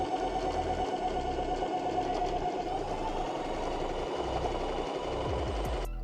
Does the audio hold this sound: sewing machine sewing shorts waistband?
yes